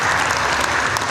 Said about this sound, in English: Ladies and gentlemen, give them a massive round of applause.